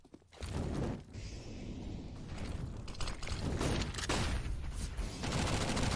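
Rapid bursts of SMG gunfire from a Counter-Strike: Global Offensive match, dense and continuous across the whole stretch with mechanical clatter mixed in.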